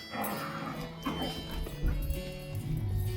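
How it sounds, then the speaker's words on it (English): Dogs barking and whimpering in the background, a mix of short yips and low barks that repeats through the whole stretch at moderate loudness. "The dogs are kind of distracting."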